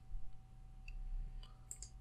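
A few soft, quick mouse clicks on an OK button in Adobe Illustrator, spaced apart over a low steady hum, with no talking.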